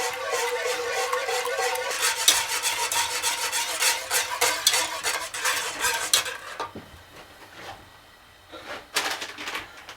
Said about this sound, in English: we're going to stir constantly until it's thick